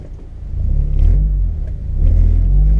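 A car with a K-series engine rumbles deep and loud, revving up twice in swelling surges from a low idle, heard from close by.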